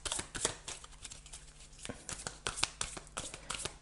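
Tarot cards shuffled and handled, a steady run of soft papery riffles and sharp flicks and snaps, close and fairly quiet, with no talking.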